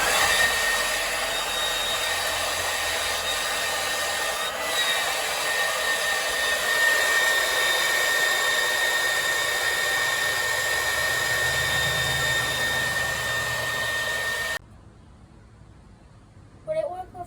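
A leaf blower roars steadily and loudly, blowing air at a spinning ball for about fourteen seconds, then cuts off abruptly, leaving a quiet hiss and a brief knock.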